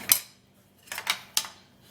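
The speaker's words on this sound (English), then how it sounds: "you have to grind it into a powder form just like this" Charcoal is ground into powder by hand, giving a few sharp, close scraping crunches in short separate bursts with quiet gaps between them.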